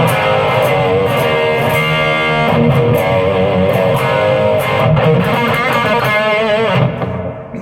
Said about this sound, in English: then you can switch to the overdrive channel. Let's see what that's sounding like.